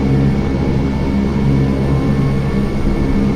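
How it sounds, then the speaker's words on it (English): A King Air B200 turboprop's engine 1 starting in the FS2004 flight simulator gives a steady, loud droning hum with a faint high whine, constant throughout and with no talking. "Starting engine 1."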